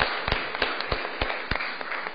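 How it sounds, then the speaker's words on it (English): Applause from an audience at a city Board of Aldermen meeting, a dense steady wash of many hands clapping with sharper individual claps punctuating it, fairly close and continuous throughout. "So let's give them a round of applause."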